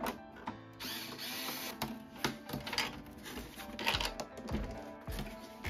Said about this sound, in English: Now there are two more screws on each corner that I will be using this flexible extension to remove.